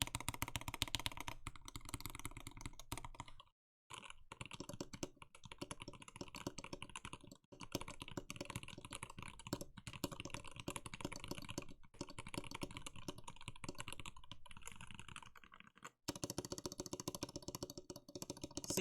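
Typing on a Rama Koyu mechanical keyboard with C3 Tangerine switches and GMK keycaps, a fast, steady stream of close, crisp clacks with brief pauses, heard alone.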